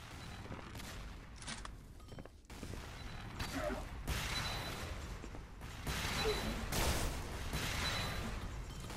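Weapon fire in a Xonotic duel on the Aerowalk map, with bursts of shots and impacts swelling in busy waves at a moderate, somewhat muffled level throughout.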